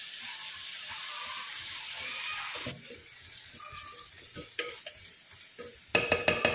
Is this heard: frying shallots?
yes